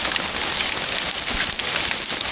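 Hail pelting a roof, a dense, steady patter of many small impacts with occasional sharper cracks, continuous and fairly loud throughout with no voices.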